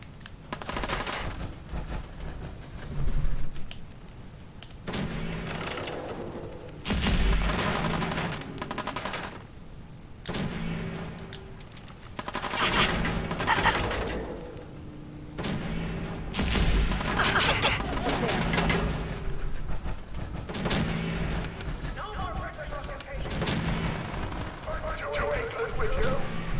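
Fallout 4 gameplay gunfire, with loud, dense bursts of shots and crashing impacts repeating throughout, broken by brief lulls.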